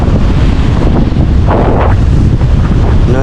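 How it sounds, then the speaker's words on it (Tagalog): Strong wind gusts roar across an outdoor microphone on a stormy typhoon-season shoreline beside a hut, a loud, continuous buffeting that swells briefly mid-way, with no voices. "Isang hangin guys."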